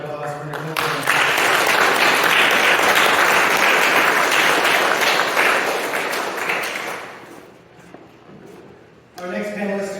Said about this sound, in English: Please, one more round of applause for Nichole.